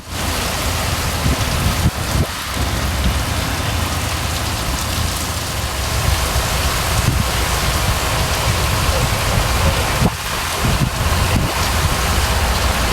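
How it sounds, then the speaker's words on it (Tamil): Heavy rain pours steadily for over an hour, a loud dense hiss of drops hammering surfaces with gusts of wind buffeting the microphone, continuous and close with no voices. "தற்போது பலத்த மழை பெய்து வருகிறது"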